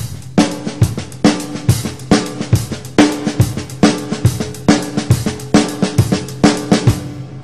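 A drum kit plays a fast six-eight groove, with a kick drum on the first beat and steady cymbal and snare strokes in a rolling triple feel, close and loud with no talking.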